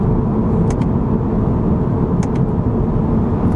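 A 2022 Subaru BRZ engine drones loud and steady from inside the car during paddle-shifted gear changes, with a few short clicks from the shifting and no speech.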